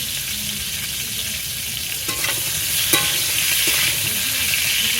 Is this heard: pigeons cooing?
no